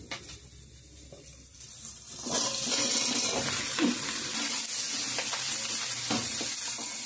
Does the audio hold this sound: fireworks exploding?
no